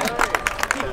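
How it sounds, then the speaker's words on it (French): Audience applause for a child on stage, a burst of crowd clapping mixed with cheering and chatter, loud and dense throughout the short moment. "Un grand applaudissement à Sébastien"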